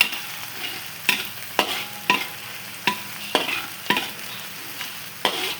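Garlic and crushed chilies stir-fry for a brinjal curry, a sizzling pan punctuated by about nine sharp, evenly spaced spatula scrapes and knocks against the pan, close and clear with no talk.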